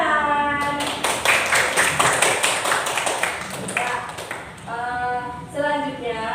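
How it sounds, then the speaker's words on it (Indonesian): A class applauds after a group activity, with a few seconds of brisk, steady clapping from many hands in a room, mixed with faint voices and a couple of bright ringing tones. "Tepuk tangan."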